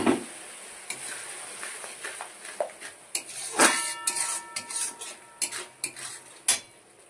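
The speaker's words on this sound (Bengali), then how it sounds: "এবার দিয়ে দিচ্ছি যে মশলা ধোয়া জলটা" Spice-rinse water poured into a pan of oil-fried masala for a mustard-eggplant hilsa curry, bringing a sputtering sizzle broken by repeated clinks and scrapes of a spoon against the pan.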